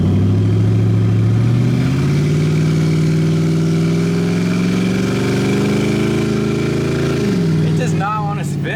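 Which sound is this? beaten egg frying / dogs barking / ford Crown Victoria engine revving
ford Crown Victoria engine revving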